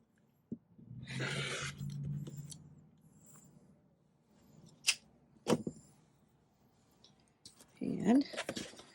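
Scissors cut a piece from old wedding dress fabric, a soft snipping crunch early on, then sparse quiet clicks and taps of the blades in a quiet room.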